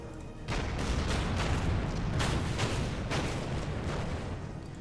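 Naval guns fire on a destroyer in Order of Battle Pacific, a World War II Pacific strategy game: a loud, continuous barrage of rumbling booms with several sharper blasts landing every half second or so.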